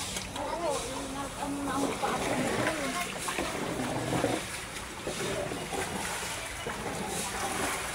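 Boat moving through flood water on a flooded street, with a steady wash of water noise under lively voices talking throughout.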